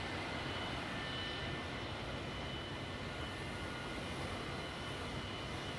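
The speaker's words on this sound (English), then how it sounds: "a phenomenally powerful combination of six mighty jet engines, which were hopefully to propel the Valkyrie" Roar of the XB-70 Valkyrie's six jet engines, a steady, broad, unbroken rumble that holds at an even level throughout with no voices.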